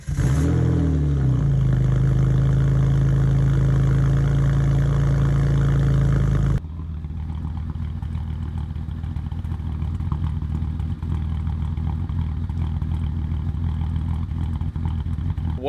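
A BMW E46 engine idling rough and running rich, a loud, close engine drone with uneven pulsing, first a heavier, harmonically rich stretch, then a sudden drop to a thinner, clattering idle that carries on.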